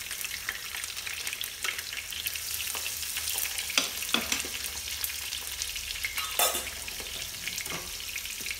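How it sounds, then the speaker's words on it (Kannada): Sliced onions fry in hot oil for a country chicken biryani, giving a close, continuous sizzle with occasional crackles and stirring scrapes, with no voices. "ಇವಾಗ ಒಂದೂವರೆ ಈರುಳ್ಳಿ ಸ್ಲೈಸಾಗಿ ಹೆಚ್ಕೊಂಡಿರೋದು ಇದು ಹಾಕೋಣ"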